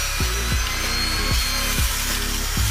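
A Prestige PCJ 5.0 juicer grinds cucumber pieces in a loud, continuous motor whine, with a rhythmic thump repeating about every half second as chunks feed through.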